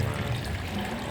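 Water flowing back into a hydroponic reservoir, a continuous splashing pour and trickle, close and steady for the whole moment with no talk.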